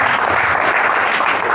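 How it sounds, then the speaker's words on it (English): A comedy club audience at a stand-up show breaks into dense, loud, continuous clapping from many hands, sustained evenly for a moment. "Give him a round of applause"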